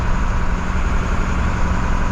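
A 1980s Dennis DS classic fire engine running, its diesel engine a loud, steady, close rumble with a constant low drone throughout.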